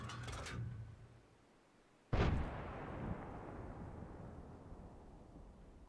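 Artillery fire in the tank game World of Tanks: a single sharp, heavy boom strikes midway, then a long rumbling decay with a smaller thud a second later, after a quieter stretch of engine hum.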